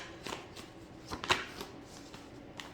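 Tarot cards shuffled and laid out by hand, a run of soft papery riffles and quick flicks in a quiet room, with a couple of sharper snaps near the middle and no talking.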